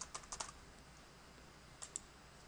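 Computer keyboard typing into a spreadsheet cell comes as a quick burst of several close keystrokes, then a pause, then two more taps, crisp and faint against a quiet background.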